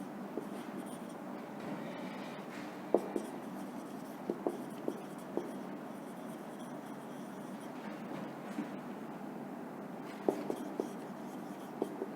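A teacher handwrites on a board during a lesson, giving faint scratchy strokes with scattered sharp taps over a steady background hiss.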